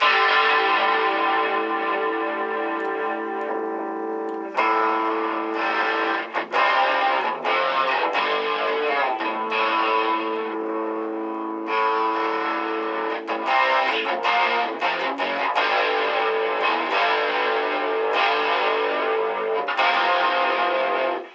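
Heavily processed electric guitar through a Boss Katana amp's effects, distorted and shimmering with chorus and echo, sustained chords and ringing notes played continuously without talk.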